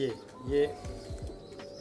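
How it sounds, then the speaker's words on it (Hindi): A pet pigeon stamped with Sialkot marks coos nearby in a short run of soft, falling coos, with someone talking over it. "अब देखिए ये कबूतर देखिए"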